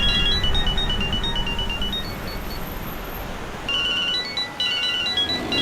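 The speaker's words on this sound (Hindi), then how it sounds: "अरे साहब फोन बज रहा है आपका," A phone rings with a repeating electronic melody, pausing briefly and then starting again, loud and close.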